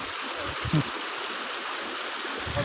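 Floodwater rushing through a village, a continuous broad wash of flowing water heard up close, with faint low thumps and a little indistinct background noise.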